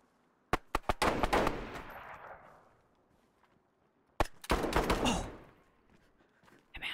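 Gunfire in the survival video game DayZ comes in two loud bursts of rapid shots, each followed by a ringing tail that fades, with silence in between.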